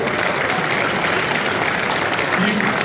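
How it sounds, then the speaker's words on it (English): A large audience at an evening event with UFC lightweight champion Khabib Nurmagomedov in Chicago applauds loudly and continuously, a thick roar of clapping with crowd noise mixed in. "Give it a round of applause"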